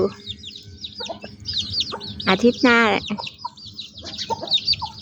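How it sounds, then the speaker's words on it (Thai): A young fighting rooster clucks close by amid a busy chorus of chirping birds, with a brief spoken phrase from a nearby voice. "มาดูพ่อไก่"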